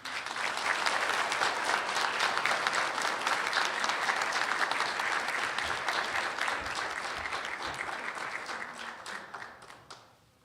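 A banquet crowd at the 2025 Treaty 3 Awards applauds steadily and warmly for about ten seconds, a full, even wash of clapping that fades out at the end.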